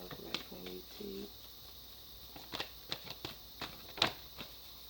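Tarot cards are shuffled and drawn, with soft riffling and several sharp card snaps scattered over a quiet background and a faint voice early on.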